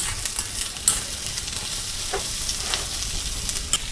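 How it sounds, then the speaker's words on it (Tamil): Garlic, onion and dried red chilies sizzle and fry in a pan on a low flame, a steady soft crackle with a few light stirring scrapes, close by and without talk. "சிம்மில் வச்சுட்டு ஒரு 3 நிமிஷம் வரைக்கும் நல்லா வதக்கிக்கலாம்"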